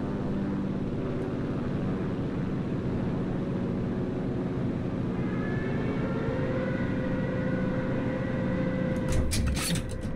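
Aircraft engine drone from the video game Enlisted during a dive-bombing run, a steady loud propeller roar throughout with a rising whine toward the end and a few sharp bursts near the finish.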